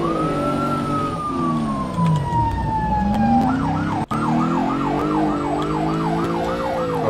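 A police car siren in GTA blares loud and close, a long falling wail that switches into a fast repeating yelp, with a brief dropout midway and engine noise beneath.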